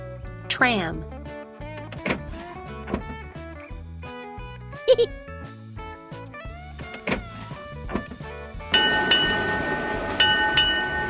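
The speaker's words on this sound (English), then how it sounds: "Tram." A tram gives off tonal electric hums and whines broken by clunks and clicks, then swells into a louder, rushing rumble near the end.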